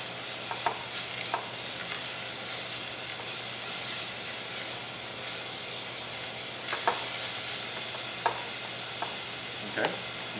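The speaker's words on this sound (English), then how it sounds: "we just want to sweat our onions" Onions sweat gently in a pan over moderate heat, giving a soft, steady sizzle and hiss with a few faint clicks of stirring throughout.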